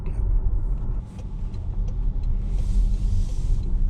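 A Toyota bZ4X electric car drives along with a steady low road rumble and tire noise heard from inside the cabin, quiet and continuous, with no engine note.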